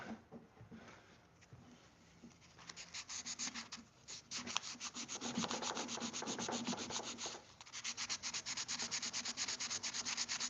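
Wooden knife handle being sanded by hand, starting faint and quiet, then growing into loud, close, rapid back-and-forth rubbing strokes with a brief pause near the end, no talk over it.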